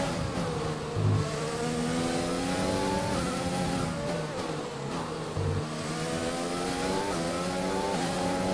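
A race car engine screams at high revs while overtaking in the F1 2020 video game, loud and continuous with rising and falling pitch as gears shift, no talking.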